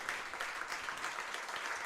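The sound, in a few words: applause after softball grand final win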